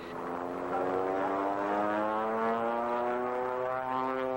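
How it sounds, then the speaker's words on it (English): Aerobatic propeller airplane at an air show climbs straight up through a series of snap rolls, its engine a loud, steady droning buzz with slowly shifting pitch, heard alone without talk. "We're just going to bring the airplane up into the vertical and do a series of snap rolls while going straight up."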